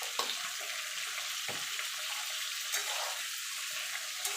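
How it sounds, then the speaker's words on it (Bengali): Turmeric and Kashmiri chilli powder fry in oil for a Bengali mango oil pickle, giving a soft, steady sizzle with a few brief stirring knocks, close and quiet, with no talk. "এবার এটাকে মিনিট খানেক ধরে একটুখানি ভাজা ভাজা করে নেবো।"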